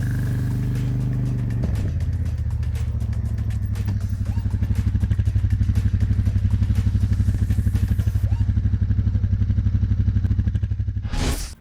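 A Royal Enfield Meteor 350 motorcycle's 350cc single-cylinder engine thumps at idle, rises briefly, then settles into a steady, loud, pulsing beat before cutting off abruptly near the end.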